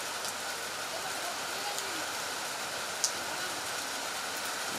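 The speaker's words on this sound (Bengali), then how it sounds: "এত বৃষ্টি হচ্ছে" Heavy rain pours steadily over a village road by open water, a dense continuous hiss close and even throughout, with one small sharp tap near the end and no speech.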